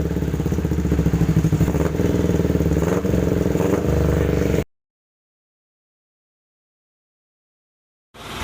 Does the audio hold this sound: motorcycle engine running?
yes